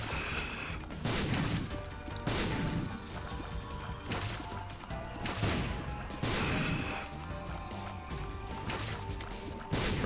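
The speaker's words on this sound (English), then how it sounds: "This freaking guy shooting bombs everywhere" An enemy in The Binding of Isaac: Rebirth throws bombs, giving a run of loud crashing blasts roughly every second and a half over a busy game soundtrack, with no talk.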